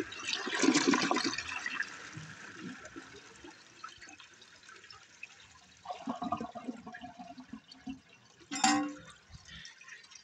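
A 1957 Standard Cadet toilet flushes with a loud surge of rushing water, followed by quieter gurgling and refilling, then a brief sharp splash or clunk near the end.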